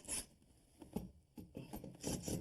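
Screws are loosened at the back of an installed kitchen cabinet, giving close, rhythmic rasping and scraping bursts of a screwdriver or driver turning, fairly loud with short gaps.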